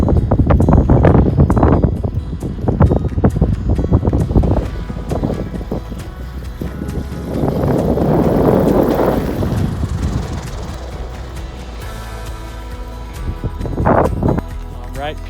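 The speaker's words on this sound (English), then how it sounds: "It is breezy" Strong wind sweeps across a mountain tabletop landing strip, hitting the microphone in loud, rumbling gusts that rise and ease in waves.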